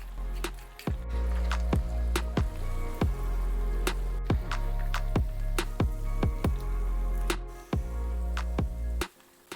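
Cooked spaghetti pasta mixed with coriander leaves in a pan gives soft, wet squishing and stirring sounds, repeating in an irregular rhythm over a steady low background hum.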